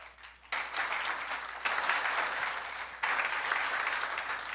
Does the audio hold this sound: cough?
no